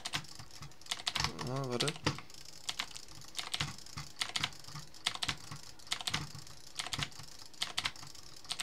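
A gaming mouse clicks in rapid, irregular bursts of sharp taps, close and crisp, with a brief spoken interjection partway through.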